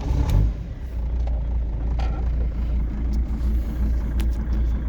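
A 2003 Mercedes Sprinter diesel engine starts with a duplicate key, catching quickly after a brief crank and settling into a steady low idle rumble, close and without talk.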